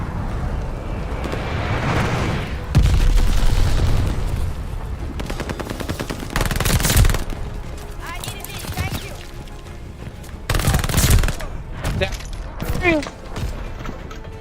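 Gunfire and glide bomb explosions in Call of Duty, with dense bursts of shots and heavy blasts booming across the scene, loud and sustained, with players talking over the action.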